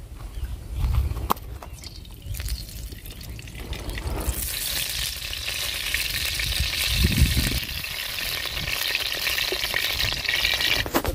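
Mustard oil poured into a hot kadai starts with a few clanks and a quiet hiss, then swells into a loud, steady sizzle that carries on to the end.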